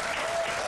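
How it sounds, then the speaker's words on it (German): Audience applause in a German television cooking show, a brief, dense burst of many hands clapping at steady loudness, with no talk over it. "Er braucht schon wieder einen Applaus,"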